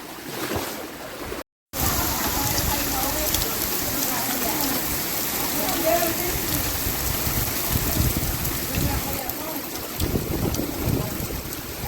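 Steady rain hisses and patters outdoors, a continuous wash of water noise with a brief dropout near the start.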